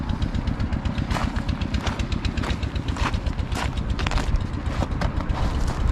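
A motorcycle engine runs steadily and close on a road near Skardu, with a fast, even pulsing throb that holds throughout.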